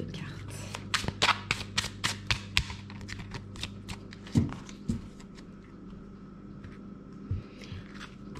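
A deck of tarot or oracle cards being shuffled by hand for a weekly reading, a quick run of about a dozen crisp riffling taps, close and fairly faint, then slower scattered clicks.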